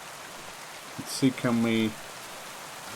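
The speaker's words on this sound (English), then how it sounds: "That is loud ass rain, isn't it?" Heavy rain in the video game Kingdom Come Deliverance 2, a steady broadband hiss of rainfall running underneath throughout, with someone briefly speaking over it.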